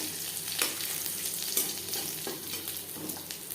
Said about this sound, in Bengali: রসুন হালকা করে ভেজে নেব এভাবে ভাজতে হবে যাতে পুড়ে না যায়